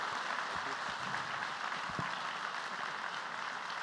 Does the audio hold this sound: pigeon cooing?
no